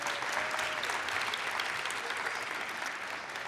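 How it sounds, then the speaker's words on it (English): Steady round of audience applause at a Latino youth conference, many hands clapping evenly and continuously at moderate volume, with no voices over it. "Please give Dr. Pink and his team a nice round of applause."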